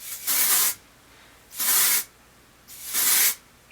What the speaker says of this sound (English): Favorite hairspray right now is by Marc Anthony. Bye Bye Frizz Humidity Shield Hairspray.